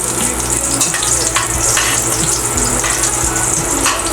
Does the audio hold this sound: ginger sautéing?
yes